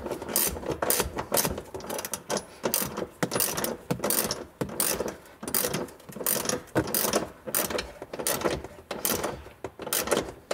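A hand ratchet tightens a small bolt on a 2003 Ford Explorer during rear heater repair, clicking in quick repeated bursts of short strokes, close and fairly loud, with no talking.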